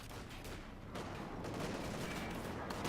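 Machine gun fire rattles in a video game battle against an MG position, quick bursts and scattered shots over a dense, distant wash of combat noise, fairly faint and steady throughout.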